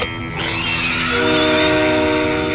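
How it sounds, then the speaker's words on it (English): In The House of the Dead: Overkill, the Scream Train roars past, loud and steady, its horn-like tonal blare sustained over heavy rumbling rail noise. "Scream Train. 200 tons of unstoppable terror burning through the night."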